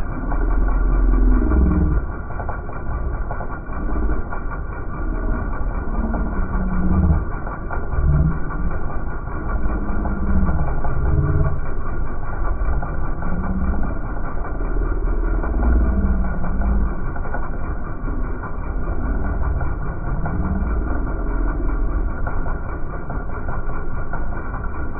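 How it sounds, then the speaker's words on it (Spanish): A 1998 Volvo S70 with a 2.4-liter engine idles steadily after a timing belt replacement, a continuous close mechanical hum and rhythmic churn holding even for the whole stretch without revving. "Voy a arrancarlo, a ver cómo arranca, cómo queda."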